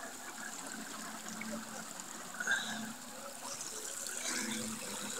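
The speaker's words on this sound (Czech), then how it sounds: "Vtok do potoka a nyní výtok do potoka." Water running from an outflow into a brook at the Blovice natural bathing pond, a steady broadband rush and trickle heard close by, with a faint lift partway through and no talking.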